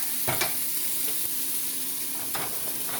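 Red peppers and onions fry in a pan for chili, with a steady soft sizzle under occasional stirring scrapes, close and moderately loud.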